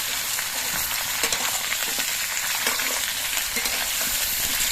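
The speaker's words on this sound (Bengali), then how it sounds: "এবার এই সবজিগুলো দিয়েও কিন্তু বেশ কিছুক্ষণ ভেজে নিতে হবে" Vegetables fry and are stirred in a pan, a loud, continuous sizzle with scraping stirs mixed in, heard alone without talk.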